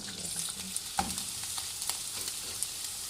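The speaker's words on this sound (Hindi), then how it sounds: "सबसे पहले मैंने 4 टेबल स्पून ऑयल डाला है। अब हम इसमें प्याज डालेंगे।" Sliced onions sizzle and crackle in about four tablespoons of hot oil, a soft, close frying hiss with small pops and a stir.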